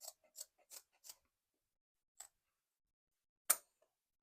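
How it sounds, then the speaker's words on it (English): Scissors snipping diagonally through ribbon: four quick crisp cuts in a row, a pause, one more snip, then a final sharper cut, all close and alone in a quiet room. "I'm going to take my scissors and I'm just going to cut it just like so."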